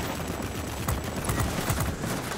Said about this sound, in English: Probably didn't even need to fire two sets of rockets